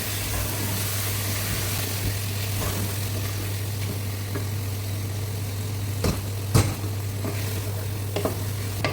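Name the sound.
spice paste being stirred and fried in a pan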